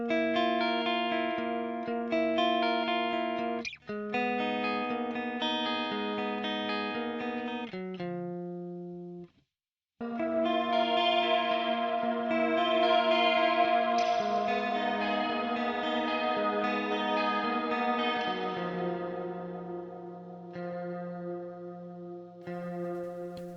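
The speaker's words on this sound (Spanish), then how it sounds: "En géneros más góticos también se usa mucha reverberación, como digo, pero acá la vibra es más una atmósfera oscura o espeluznante y espaciosa" An electric guitar soaked in heavy gothic reverb plays ringing, sustained notes and chords in a dark, spacious, cave-like post-punk style, with a brief drop to silence midway before the notes swell again.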